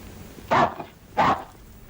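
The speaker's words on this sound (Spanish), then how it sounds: "qué perro tan bonito" A dog gives two loud, close barks about two thirds of a second apart, outdoors in an old western setting, with quiet between them.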